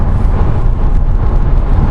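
Steady broadband roar of wind and tires on pavement inside a Chevy Volt cruising at about 65 mph on a freeway, continuous and fairly loud, with no talk.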